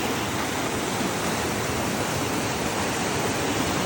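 Loud, continuous rushing water roars close by, a dense steady wash with no pauses and no voices.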